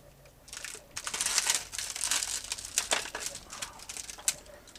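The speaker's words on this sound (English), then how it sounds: "Remove them from the cellophane sheet." Cellophane sheet crinkling and crackling close by as small guitar parts are peeled off it, irregular papery rustles with sharp snaps over a few seconds.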